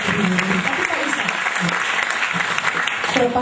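Audience applause for a guest named Pak Yusak at a talk-show style interview event, a dense, steady wash of clapping filling the whole stretch, loud and sustained without a break.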